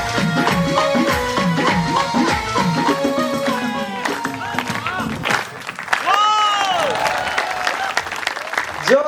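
Audience applause and cheering fill the space after a dance performance at a Haryana cultural festival, a steady dense crowd clapping that continues throughout, with some voices and shouts mixed in.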